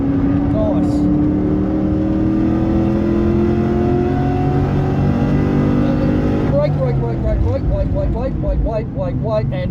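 Car engine held at full throttle, a loud, steady droning roar with rising pitch that shifts partway through into a rougher, pulsing tone, with other engine noise in the background.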